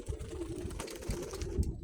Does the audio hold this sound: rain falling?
no